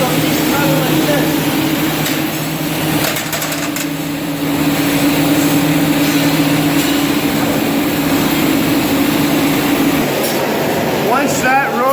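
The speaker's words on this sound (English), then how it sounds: "This machine here makes the spindles." A factory machine shapes metal pieces into motor spindles, giving a loud, steady mechanical drone with a sustained low hum and scattered clanks and whirs, close by, with a person speaking over it.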